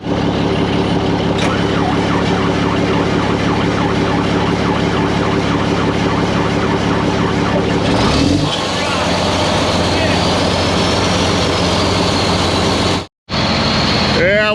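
A Bubba dump truck's diesel engine, on a low battery, cranks and catches around the midpoint, then settles into a loud, steady rumble close by, with a brief cutout near the end.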